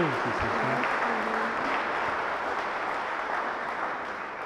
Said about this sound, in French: On va les applaudir bien fort